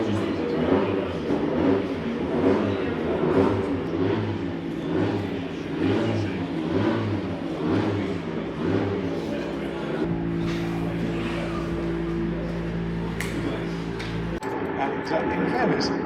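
A V6 race car engine drones and revs steadily through a quick run, with a pulsing rhythm and a mid-pitched motor tone that holds throughout, under a voice talking.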